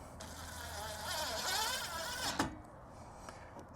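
A power driver with a 5/32 Allen bit whirs steadily as it runs roof rack bolts in on a 5th Gen Toyota 4Runner, one continuous close buzz that stops abruptly, followed by a short clack.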